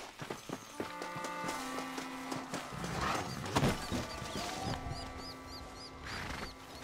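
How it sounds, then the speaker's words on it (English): Horses pulling a stagecoach in Red Dead Redemption clip-clop steadily at close range, hooves and rolling carriage noise blending with ambient outdoor sounds and faint birdsong. "They are good horses."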